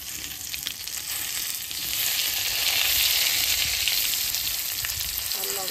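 Nigella and cumin seeds sizzle steadily in hot oil over a cooking fire, a loud, close, continuous hiss that swells slightly midway.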